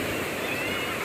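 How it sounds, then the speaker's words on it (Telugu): Sea waves at Mypadu Beach near Nellore, a broad steady wash of surf and wind noise filling the short moment, no distinct breaks and no talk. "ఆ సముద్రం అలా సౌండ్ ఏనండి ఎంత బాగుందో."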